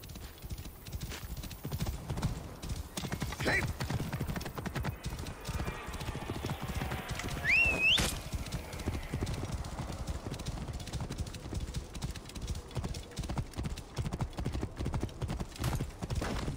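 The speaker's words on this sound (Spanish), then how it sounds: "Este será el caballo de Mered." A horse in Assassin's Creed Origins trots with steady clip-clop hooves at close range, and a short whinny cuts in midway through the steady gait.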